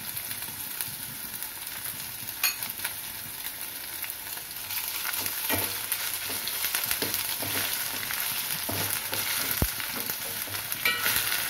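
Ginger garlic paste sizzles and fries in a pan while cooking a tomato cashew curry, with a steady close hiss and scattered pops and stirring scrapes throughout.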